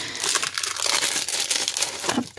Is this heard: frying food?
no